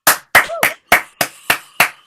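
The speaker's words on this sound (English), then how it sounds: "so nice warm applause in the Zoom room for Charlie Barnes" Seven separate, sharp hand claps, close and evenly spaced, from a single person in an online Zoom comedy show, with a brief vocal sound between the second and third claps.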